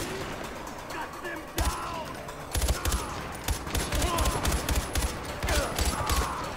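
Rapid gunfire erupts in the Far Cry 4 video game during a fight at Kings Bridge, with quiet ambience first and then sharp bursts of automatic shots in quick, uneven volleys, close and loud.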